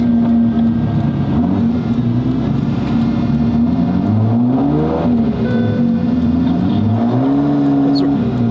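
A Liberty Walk modified car's engine runs loud and close throughout, a deep steady idle that rises and falls with brief revs.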